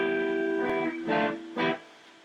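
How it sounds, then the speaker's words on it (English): A G6 guitar chord, the same six-chord shape slid up the neck, rings sustained with a sharp attack early on, followed by two brighter strummed accents, played alone at close range. "I could play G6 like this."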